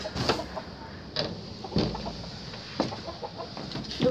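Chickens, including a year-old hen, cluck softly in short, scattered bursts over quiet outdoor background noise, with a few louder calls close by.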